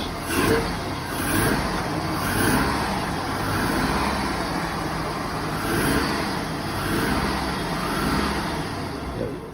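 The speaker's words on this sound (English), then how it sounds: "He was able to start the next one up. This is going to be a 2002 Chevrolet Silverado." 2002 Chevrolet Silverado that is smoking at a towing auction, its engine running with a steady, rough idle and swelling revs, heard up close outdoors with no one talking.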